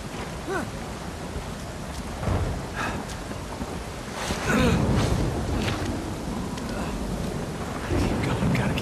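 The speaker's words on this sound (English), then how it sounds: "the rain mechanics where it makes things slippery" Steady rain hisses across a video game scene in Uncharted 4, with wind and a low rumble beneath and swelling heavier midway, while voices talk over it.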